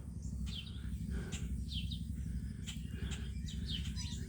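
Small birds chirp and tweet in quick, scattered bursts around a farmyard, moderately close over a constant low outdoor rumble.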